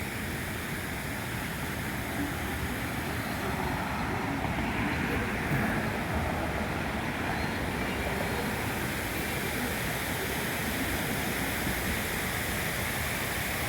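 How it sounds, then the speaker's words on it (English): Steady, full-band rush of water streaming down an artificial volcano on the Las Vegas Strip, continuous and fairly loud throughout, like a cascade pouring down nearby, with no breaks. "Take a look over here at the volcano with the water streaming down it."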